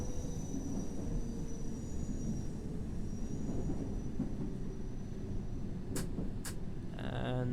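A London Underground train in World of Subways 3 rumbles low and steady as it brakes to a stop, a continuous heavy rolling drone with a faint hiss and brief clicks near the end.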